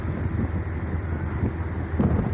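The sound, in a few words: motor vessel Taranga 7 running at high speed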